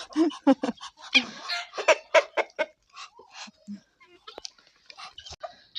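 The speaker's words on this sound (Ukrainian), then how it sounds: "Качур свариться, не знаєте чого півні помиритися ще не можуть." Roosters and a drake squabble in a village yard, giving sharp clucks, crows and quacks in rapid, close bursts with short pauses between calls.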